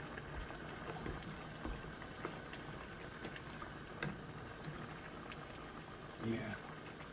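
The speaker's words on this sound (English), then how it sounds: "that butter's melting very nicely" A tablespoon of butter melts in a hot pan with a steady, dense sizzle that holds at an even level throughout, with a few small pops and clinks near the end.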